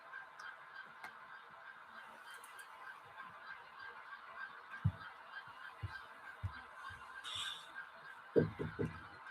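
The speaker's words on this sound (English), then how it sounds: "Did Brian buy another goose?" Geese honk in a steady, overlapping chorus throughout, with a few low thumps and knocks toward the end.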